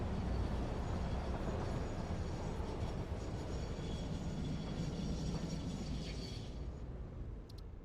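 Train rolling along rails in the Satisfactory factory game, a steady dense rumble with a faint metallic high whine, holding loud and constant throughout before easing slightly at the end.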